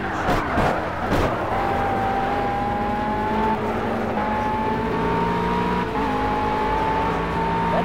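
Racing car engines in the video game Project Cars, including a Cadillac, whine and rise in pitch through long gear pulls, with a few sharp thumps early on and a steady loud drone throughout.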